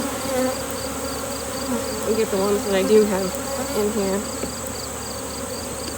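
Honey bees in an opened hive give a steady, close insect buzz with wavering hum, while a person talks quietly over it.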